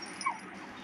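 A brief, high whimper from a dog-man enemy in the video game Mutant Zone 2, a single short yelp over a faint background hum.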